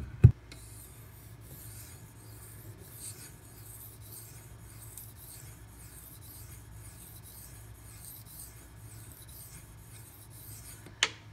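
A knife is drawn across a hard 8000 grit Pride Abrasives water stone in quiet, even rasping strokes. Sharp taps sound at the start and the end.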